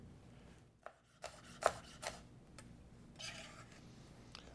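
Knife chopping peppers and onions for a turkey chili: a few quiet, irregular taps of the blade on a cutting board, separated by soft rubbing and scraping, with no talk.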